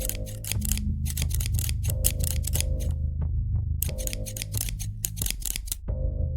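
Metal scissors snip over and over in quick bursts of crisp, bright clicks, close and loud, with a steady low hum underneath; the cutting pauses briefly midway and again near the end.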